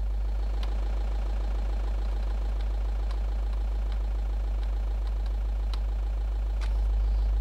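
A modded 2010 Peugeot 308 idles in a video game with a deep, truck-like engine rumble, steady and continuous with faint clicks, no talk.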